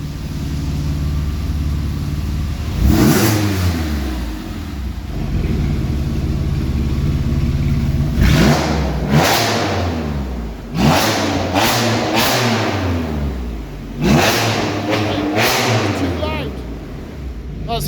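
A Porsche 911 997 with a Valvetronic exhaust revving hard, several sharp throttle blips rising and falling over a loud idle, close and booming, with voices talking between the revs.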